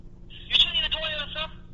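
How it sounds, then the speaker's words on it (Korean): A telephone rings with an incoming call, giving a short burst of high electronic ringing tones, fairly clear against a low background hum. "지금 전화 오고 있어."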